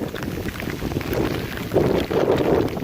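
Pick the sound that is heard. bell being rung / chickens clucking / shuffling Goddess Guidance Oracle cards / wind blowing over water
wind blowing over water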